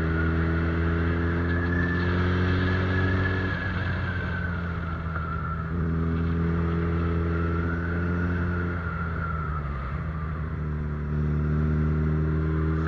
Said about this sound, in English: second time I'm riding in Hayabusa in Marches Ghat